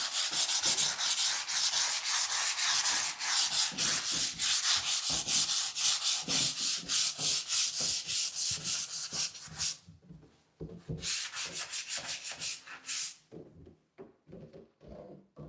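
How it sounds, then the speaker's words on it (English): A sanding sponge rubs back and forth across wood in quick, rhythmic rasping strokes, close and continuous, pausing briefly before resuming, while prepping a bathroom for paint. "I'll just quickly do this with the sanding sponge."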